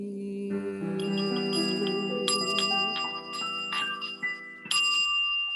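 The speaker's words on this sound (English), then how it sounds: "It's my little healing bowl." A small healing singing bowl is struck several times, each strike ringing out in clear sustained overtones that overlap and slowly decay, close and fairly quiet, with no talking.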